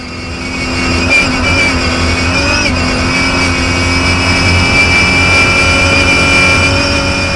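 Newly upgraded Toyota Hilux rally car racing on a Dakar 2022 stage, its engine roaring loud and close with a steady high-revving drone and brief gear-shift dips, heard alone.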